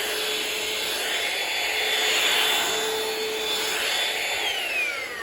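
A Shark VacMop Pro cordless vacuum mop runs continuously up close, a steady whining motor hum with a thin high tone that swells slightly midway, with no speech over it.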